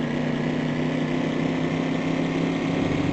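Need for Speed racing game engine heard from the dashboard camera: a steady, loud, flat mid-pitched drone with no revving changes, running continuously without speech.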